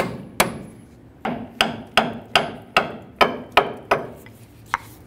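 A hammer taps a chisel on the upper control arm of a Ford Ranger, about ten sharp metallic strikes in a steady rhythm, close and loud with no voices.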